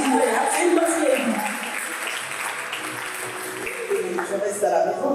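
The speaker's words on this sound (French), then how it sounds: "Acclamez la bosse lady, s'il vous plaît." A talk-show studio audience applauds and cheers for a woman introduced as a boss lady, a dense wash of clapping that stays steady and full, while a voice speaks over it.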